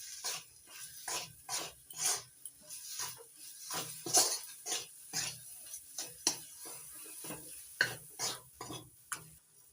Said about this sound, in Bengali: এবার একসঙ্গে সব মশলা কষিয়ে নেব।